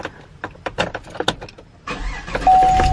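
Inside a mother's car on a hot day, a series of clicks and a jangle of keys comes first, then the engine turns over and settles into a steady, loud running hum.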